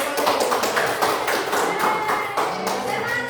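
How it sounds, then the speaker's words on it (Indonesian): A classroom of students applauds a presenting group, dense continuous clapping from many hands filling the room, with faint voices mixed in. "Kita beri dulu aplaus supaya senang mereka."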